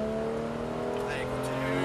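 Porsche 991 GT3 race car on track, engine droning steadily near the microphone as it accelerates out of a corner, with tonal exhaust harmonics and faint tire noise throughout.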